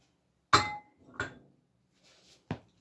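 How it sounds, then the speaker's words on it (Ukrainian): Two eggs going into a bowl for carrot pancakes: three sharp separate clinks as the shells are tapped against the bowl rim, close and fairly quiet, with brief soft rattles between them and no speech. "Тепер сюди я додаю оці два яєчка."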